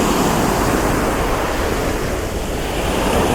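Water waves wash steadily against the shore in a continuous, close, rushing surge, with wind buffeting the microphone and no voices present.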